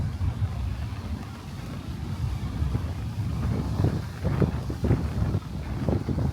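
Strong wind gusting along the Brooklyn waterfront, a steady low rumble buffeting the microphone, with louder bursts building toward the end.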